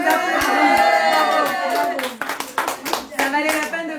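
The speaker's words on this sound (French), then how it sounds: "On vous applaudit." Audience applause fills a room at a gathering, dense and loud at first, then thinning into scattered claps as voices talk over it.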